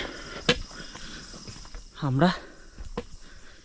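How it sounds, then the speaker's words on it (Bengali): Crickets chirp steadily in a jungle along a trekking trail, a faint high continuous trill behind footsteps and a brief spoken word. "ঝিঝি পোকার ডাক শোনা যাচ্ছে"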